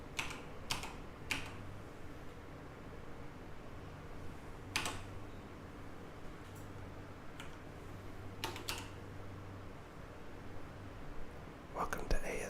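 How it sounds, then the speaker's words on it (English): Keys on a computer keyboard tapped in scattered, crisp clicks and short bursts, close up and quiet, with soft whispering underneath. "And now I'm going to type."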